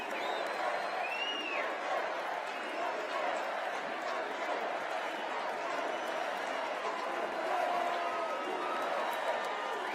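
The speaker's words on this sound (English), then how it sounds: "the crowd is not quieting down" Dense, steady crowd noise from a packed Republican National Convention hall, with continuous cheering, shouting and scattered whistles holding at an even level throughout, no single voice standing out.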